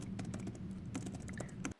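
Fingers type on the keyboard cover of a Huawei MatePad Pro 12.2-inch PaperMatte Edition tablet, producing a quiet, irregular run of soft keystroke clicks that stops abruptly at the end.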